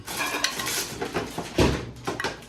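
Cold coleslaw and spinach are mixed together in a bowl, with close scraping and clinking of a utensil against the dish and soft wet tossing, no talking.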